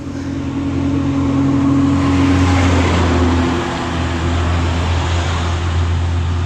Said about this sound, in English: Truck does sound very good.